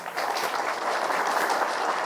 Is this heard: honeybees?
no